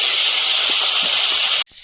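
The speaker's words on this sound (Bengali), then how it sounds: "ওই তেলে মাথাটা ভেজে নেব" Loud, steady sizzling hiss of a hilsa fish head frying in hot oil, cutting off abruptly near the end.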